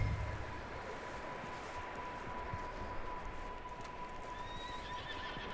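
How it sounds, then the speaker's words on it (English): A horse neighs and whinnies inside a barn in the video game Red Dead Redemption 2, with hooves clip-clopping, all set over a steady game ambience and heard clearly without speech. "I mean, there's a horse."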